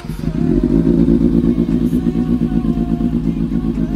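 An expensive motorcycle's engine revs hard and close, a loud throbbing burble with rapid pulsing firing and a slight mechanical clatter, holding steady throughout.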